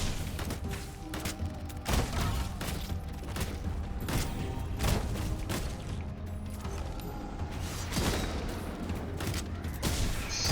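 Sniper gunfire in the video game Shape of Dreams: a rapid stream of sharp shots and mechanical clacks, irregular but dense, with booming hits layered over constant game effects.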